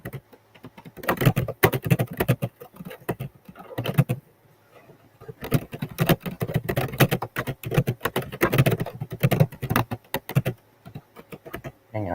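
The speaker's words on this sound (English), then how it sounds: "think someone's beating a keyboard to death" Loud, rapid keystrokes clatter on a computer keyboard in bursts across the clip, with brief pauses between flurries and faint voices in the background.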